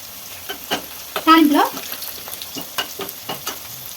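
Curry leaves drop into hot oil with small onions and garlic for a dal tempering with fenugreek greens, tomato and raw mango, giving a short burst of crackling sizzle among scattered pops and stirring clicks.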